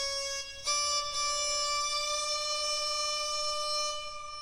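Sarangi patch on a pitch-correction app with round and snap turned off, playing a bright, steady sustained bowed tone with rich harmonics that holds one pitch with a slight waver, broken by two brief accents near the start, with no talking.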